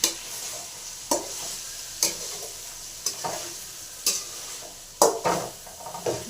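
A spoon stirs homemade brinjal curry in a pan, scraping in a steady rhythm about once a second over a soft, constant sizzle. The sound is close, with no talking.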